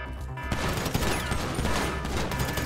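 Dense rapid gunfire fills a firefight in the video game Grand Theft Auto V, a loud continuous burst of shots and impacts with no pauses.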